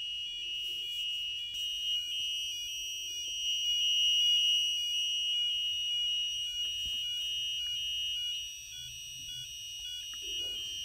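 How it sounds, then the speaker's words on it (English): An active buzzer on an Elegoo Arduino Uno R3 board gives a steady high-pitched electronic tone, continuous and fairly quiet, with faint background rustles and no talk. "It's a decent little buzzer."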